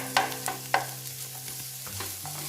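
Ingredients frying in butter in a pan for a chicken roll are stirred, giving a soft continuous sizzle with a few scraping spoon strokes near the start, fairly quiet and close, with no talking.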